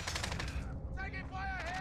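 Rapid video game gunfire, bursts of automatic shots crackling in quick succession, fairly faint and mixed with brief synthetic tones and voice-like chatter near the end.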